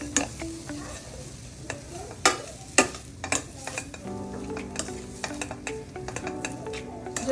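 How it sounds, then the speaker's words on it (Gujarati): Dabeli spice filling being mashed and stirred in a pan over a low flame: soft scraping and spoon knocks against the metal, a few sharper clinks, over a faint continuous sizzle. "એકદમ ધીમા ગેસ, ધીરેથી મેશ કરવાનું છે"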